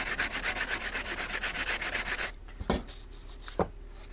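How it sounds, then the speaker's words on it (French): Balsa wood being sanded while repairing the fuselage of an RC plane: about two seconds of steady, rhythmic back-and-forth rubbing strokes up close, then a pause broken by a couple of sharp knocks. "Encore un petit coup de ponçage."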